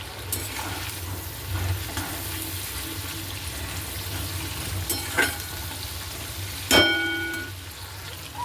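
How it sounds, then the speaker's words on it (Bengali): Fish and potato pieces sizzle steadily in hot oil in a pan, a continuous close crackle with a few utensil clinks and a brief louder clatter near the end, no voices. "এই যে আলুটা ভেজে তুলে নিয়েছিলাম এটাও দিয়ে দেবো ওতে একটু ভাজা হয়ে যাক এটা"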